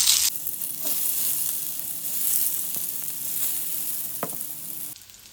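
Soya chunks fry in hot oil over a low flame, a steady loud sizzle that runs almost the whole time with a few brief clicks and knocks from the pan. It stops abruptly near the end.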